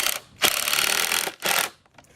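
A screw is driven into a wooden DIY car ramp, countersinking the head slightly lower, in a few loud, close, whirring bursts with short pauses between them.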